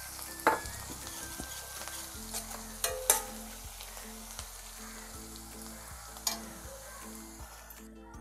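Curry leaves, garlic and asafoetida sizzle in hot oil in a pan, a steady close frying crackle broken by occasional clinks and scrapes of stirring.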